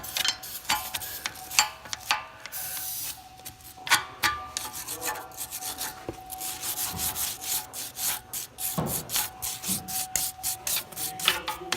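A brake caliper is hand-sanded with 80 grit sandpaper in steady, close, rasping strokes that continue throughout with irregular scratchy bursts and no talking.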